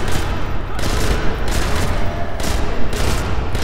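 Thompson submachine gun firing in Sniper Elite V2: loud, sustained automatic fire that comes in repeated bursts with short gaps between them, close up and filling the whole stretch.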